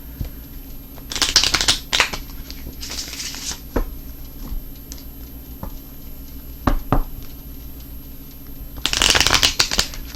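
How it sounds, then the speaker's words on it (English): A deck of tarot cards is shuffled close by in several quick riffling bursts, with soft taps and handling noises between them and a final long riffle at the end. "this is going to be the last shuffle here"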